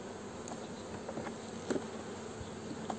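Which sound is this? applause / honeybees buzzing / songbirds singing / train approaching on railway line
honeybees buzzing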